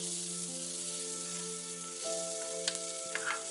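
Onions for a Kongunadu white biryani sauté in a pan with a soft, steady sizzle under a sustained musical tone. A few light clinks come near the end.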